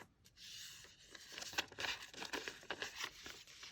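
Paper crackles and crinkles as a handmade paper tag is folded by hand, a close, soft rustling with small crisp creases through a few seconds, no voices.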